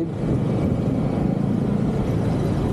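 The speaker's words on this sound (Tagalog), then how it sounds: "sobrang traffic dito ngayon sa C5." Heavy road traffic on C5, a dense, steady rumble of engines and tyres that stays loud and unbroken, with no voices over it.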